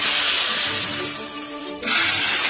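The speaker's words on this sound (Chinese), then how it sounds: "起锅烧油，放姜末，放蒜末，放剁椒。" Minced ginger, garlic and chopped chili hitting hot oil in a wok, a loud dense hiss that eases briefly, then bursts back up at full strength.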